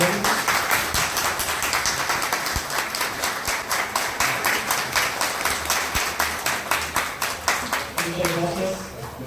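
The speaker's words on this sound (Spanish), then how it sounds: "Un aplauso, por favor, también." An audience at a ceremony honoring a firefighting company gives a long round of applause that stays sustained and rhythmic. Many hands clap together in near-regular waves, with some voices underneath toward the end.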